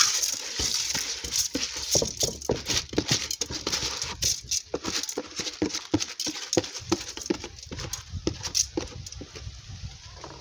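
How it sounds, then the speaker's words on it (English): Dry rice pours into a cooking pot in an African village kitchen, a soft steady patter of grains with scattered light ticks, close and without talk. "I want to pour the rice inside the pot"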